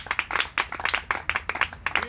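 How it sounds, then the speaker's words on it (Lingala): A congregation at a mountainside sermon claps in quick, uneven bursts that sound close and fairly soft, with no talking over it. "Nous acclamons très fort pour la parole."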